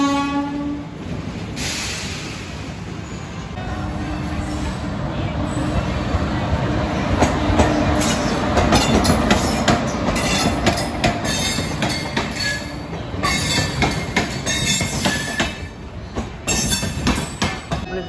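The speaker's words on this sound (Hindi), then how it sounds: "ट्रेन आ चुकी है" A train pulls into a busy Indian railway station in Gwalior, with a horn blast early on. Rumbling wheels and rhythmic clatter follow, loud and close, and they build steadily as it arrives. Faint crowd noise sits underneath.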